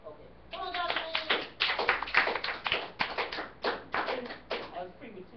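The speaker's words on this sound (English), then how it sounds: "I was pretty mature in my clapping" Rhythmic hand clapping at a church gathering, with a steady, repeated beat. Voices speak and sing along over the claps.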